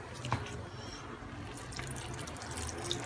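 Hot water poured into a pan of paella mixta, a steady close-up trickling and splashing of liquid lasting a few seconds with no voices.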